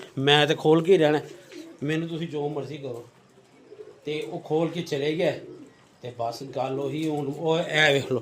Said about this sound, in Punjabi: ਇਹ ਨਵਾਂ ਕਬੂਤਰ ਉਸ ਮਾਦੀ ਪਿੱਛੇ ਮਸਤ ਹੋਇਆ ਹੈ।